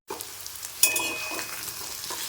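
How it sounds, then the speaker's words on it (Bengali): Paneer pieces fry in hot oil in a home kitchen: a sharp sizzle bursts in as they hit the pan, then settles into a steady crackling hiss. "তো আগে পনিরটা ভেজে নিচ্ছি"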